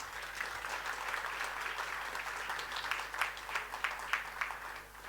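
Sustained applause fills a formal budget session for the Minister of Finance and Public Enterprises, a dense steady clapping from a large audience that swells slightly with sharper bursts toward the end.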